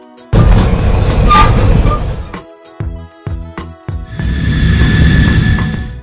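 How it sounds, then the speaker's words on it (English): A red commuter train rumbles loudly past at close range, then breaks into a sparse clatter before a second sustained roar with a faint high whine on top. No voices. "Red Commuter Train."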